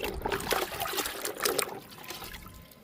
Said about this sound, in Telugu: ఈ మొక్క కూడా లిక్విడ్ ఇద్దాము